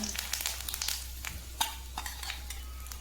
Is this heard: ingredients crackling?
yes